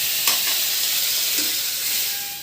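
Dried chili, bay leaves, ginger and panch phoron sizzle in hot oil for a vegetarian curry, a steady close hiss with a brief stirring clatter near the start.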